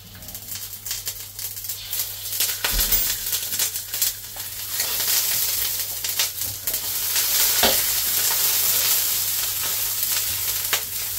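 Pork fat sizzling in a little cooking oil in a pan, a dense, steady crackle that swells louder partway through, close up, with occasional faint clinks and no voices.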